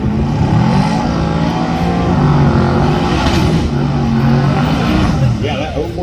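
Small-tire drag race cars launching and running heads-up at US131 Motorsports Park during a street car takeover event: loud, sustained engine roar with shifting pitch, steady throughout and partly overlaid by a voice talking.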